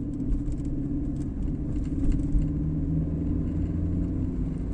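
Steady engine rumble from inside a car as it slows and the driver downshifts into second gear approaching an intersection on a Brno driving-school lesson, with a faint mechanical rattle over the drone.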